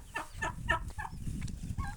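Turkey poults and a hen clucking and pecking as feed gets scattered around a Ukrainian home poultry yard, several close, short calls in a busy series over a low scratchy background.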